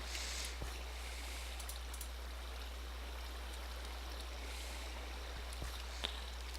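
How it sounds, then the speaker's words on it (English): Water flows continuously in the Minecraft video game, a steady soft rushing trickle with a few faint clicks on top, and no speech. "So now water's coming from up there"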